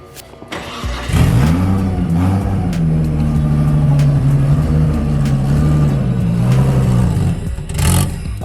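A Nissan Laurel with a big-turbo RB25 engine pulls away cold on an automatic, running rough, its steady mid-pitched engine drone holding loud and close for several seconds with a brief rev near the end.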